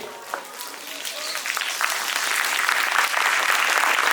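Sustained audience applause at a school event welcoming visiting NRI guests, building from scattered claps into steady, dense clapping that grows louder, with some voices mixed in.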